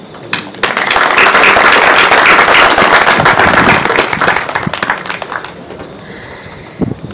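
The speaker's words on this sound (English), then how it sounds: "give yourselves a huge round of applause" At a 2021 graduation ceremony, parents and guardians break into loud, dense applause that swells quickly, holds for several seconds, then thins to scattered claps and a few cheers as it dies away.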